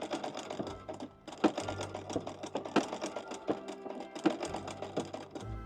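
Restored antique sewing machine stitching close up, a quick run of mechanical clatter with rhythmic thumps and ticks, briefly pausing and then carrying on, with no talk.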